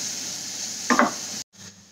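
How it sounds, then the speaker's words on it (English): Potatoes and mushrooms frying in a pan, a steady close sizzle with a short scraping stir near the middle, then the sound briefly cuts out before the sizzle resumes more faintly. "So there's my potatoes and mushrooms frying nicely"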